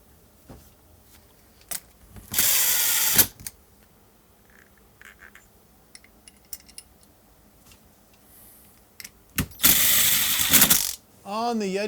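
Bursts of ratchet clicking and tool mechanism noise as spindle bolts on a Yeti Snow MX snowbike are tightened, two long loud ratcheting runs separated by scattered clicks and handling sounds.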